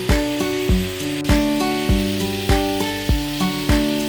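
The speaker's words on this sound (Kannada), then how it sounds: "ಇದನ್ನೆಲ್ಲ ಚೆನ್ನಾಗಿ ಸ್ವಲ್ಪ ಆಯಿಲ್ನಲ್ಲಿ ಫ್ರೈ ಮಾಡಿ" Tomato, coriander leaves and spices fry in hot oil, a steady close sizzle broken by regular stirring strokes that scrape and clatter in an even rhythm, with no talking.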